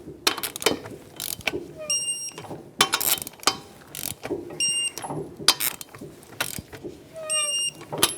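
Torque wrench clicking as it tightens the wheel lug nuts on a 2007-2012 Nissan Versa in a crisscross pattern, with repeated ratcheting bursts and several sharp metallic clicks, close and loud, with no talk.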